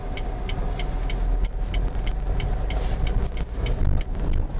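A car driving through town during a French driving lesson, with steady low engine and road rumble throughout and a regular ticking indicator clicking along on top.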